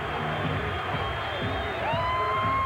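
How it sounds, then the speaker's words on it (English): Hockey arena crowd at a Tri-City Americans versus Portland Winterhawks game, a steady cheering roar with a few whoops and whistles rising near the end, under a commentator's voice. "And boy, is this crowd coming alive."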